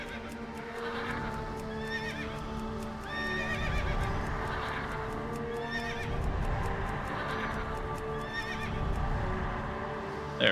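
A mount horse in World of Warcraft neighs several times over a steady clip-clop of hooves, close and clear, with soft game music underneath.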